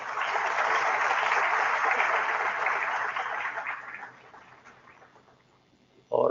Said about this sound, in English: So this is something for which we should give him a real big applause.